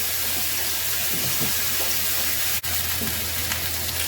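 Burger patties frying in a hot pan, a steady loud sizzle and crackle filling the whole stretch, close up, with no talking.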